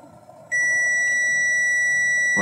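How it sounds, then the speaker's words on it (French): A continuity tester testing the coil of a Dremel 3000 rotary tool emits a loud, steady electronic beep that starts suddenly and holds unbroken to the end, over faint background hiss. "Je refais un coup de bip."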